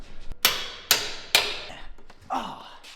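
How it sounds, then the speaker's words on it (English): Hammer tapping metal parts into alignment during an electric off-road mini Beetle build: three sharp, ringing strikes spaced about half a second apart, then a duller knock, close and loud, with no talk. "Grab the hammer and give it a little nugget."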